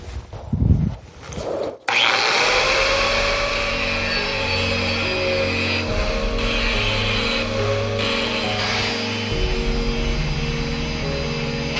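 A grinder cleans chalk-marked spots on a metal disc for welding, cutting in after a couple of short bursts and then holding a loud, steady whine with a gritty rasp that wavers slightly.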